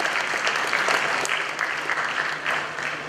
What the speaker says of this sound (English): Shall we show some appreciation with applause